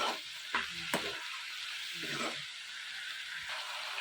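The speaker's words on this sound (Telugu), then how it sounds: "ఈ పసుపు, సాల్ట్ అలాగే ఆనియన్స్, పాలకూర మొత్తం మిక్స్ అయ్యేలా మొత్తం అంతా కలుపుకోవాలి" Spinach with onions, turmeric and salt stirred in a pan for palakura fry, giving a steady background sizzle with a few short scraping strokes near the start and middle, fairly close and moderate in level.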